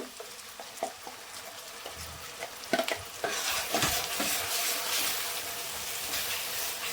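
Ground masala frying in oil for an Andhra-style gourd curry, a few light spoon taps first, then a strong continuous sizzle swelling as the paste hits the hot oil.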